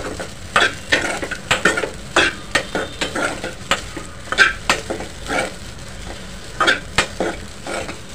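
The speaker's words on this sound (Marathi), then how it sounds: "स्लो गॅसवर हे साबुदाणे परतून घ्यायचे आहेत" Sabudana (sago pearls) is stir-fried over a low flame in a kadhai, with repeated scraping strokes of a spoon against the pan in an uneven rhythm over a soft sizzle, close and clear with no talking.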